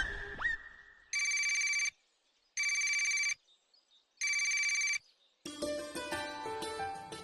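A telephone rings in three evenly spaced, bright electronic bursts indoors, each lasting under a second with short silences between, followed by a burst of background music.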